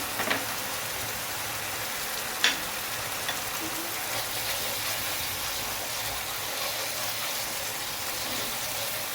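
Poppy seed and almond spice paste fries in a pan, giving a steady, even sizzling hiss throughout, with a single faint tap partway through and no voices.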